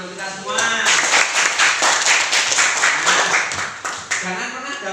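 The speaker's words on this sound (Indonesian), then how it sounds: "Tepuk tangan untuk kita semua." Classroom applause from pupils during an Islamic religious-education lesson, a dense burst of many small hands clapping for about four seconds, with a teacher's voice briefly before and after.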